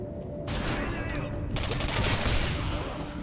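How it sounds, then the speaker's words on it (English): Rocket launcher fire in the shooter game Singularity, a dense, loud burst of blasts and rattling gunfire running continuously for a few seconds with no pause. "I'll rocket launch those guys."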